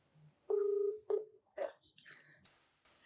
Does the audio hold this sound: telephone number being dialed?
yes